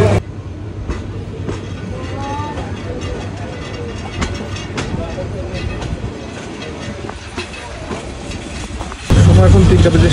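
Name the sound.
Paharika Express train departing Kulaura station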